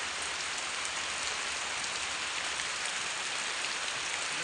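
Morning rain pours down in a steady, even hiss of drops drumming on surfaces, unbroken and fairly close, with no voices.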